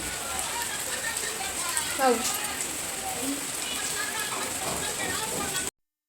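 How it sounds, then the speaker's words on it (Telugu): Cool rain falls steadily outdoors as an even, dense hiss, with a faint voice briefly audible in the background before the sound cuts off. "చల్ల చల్లగా వర్షం అయితే వస్తుంది"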